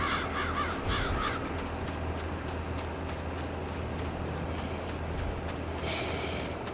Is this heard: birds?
yes